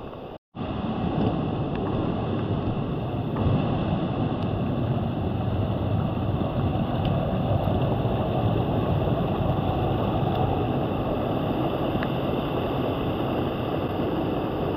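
A lively mountain stream rushes beside a hiking trail near a levada on Madeira, a constant broadband whoosh of flowing water that holds steady and fairly loud throughout, with no voices.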